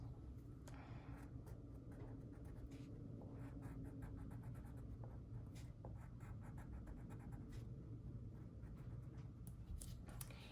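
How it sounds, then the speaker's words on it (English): Pen strokes scratching out little triangles on paper, a quick run of short, close, quiet drawing marks repeating steadily throughout, with no talking. "You can make teeth if you want by drawing little triangles."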